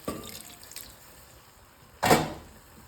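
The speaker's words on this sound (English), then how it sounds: "it's time to add a little bit of water" Water is added to a pot of egusi soup as it simmers. There is a short splash at the start, a quiet spell, then a second louder pour that fades.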